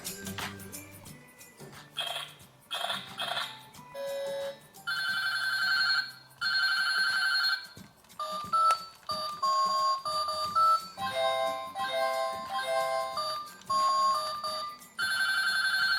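A toy telephone rings repeatedly with bright electronic trills and melodic tones, loud and close, in bursts separated by brief gaps, with no voices over the ringing.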